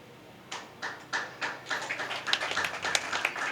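A single audience member at a Tamil public speech claps in steady, sharp beats that quicken and grow slightly louder, close and clear with no talk over them.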